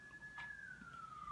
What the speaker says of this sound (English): And I'm sorry for the siren in the background.